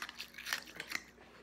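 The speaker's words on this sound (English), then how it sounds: "So I need to do a little ice crunch with my ice from my butterbeer soda." Ice from a butterbeer soda crunched between teeth, a few crisp close bites and crinkly crackles over about a second and a half, quiet and with no talking.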